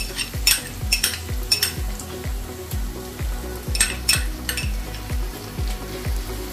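Ginger garlic paste sizzles steadily in a hot pan as a metal spoon stirs and scrapes it in a regular rhythm, with clinks of utensil against the pan close up.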